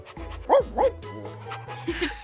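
A dog gives two quick high yips close by, followed by softer whimpering barks over a low steady tone, with no talking.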